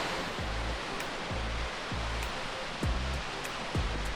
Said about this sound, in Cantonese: 呢度嘅水聲實在太大啦，現場收音淨係錄到水聲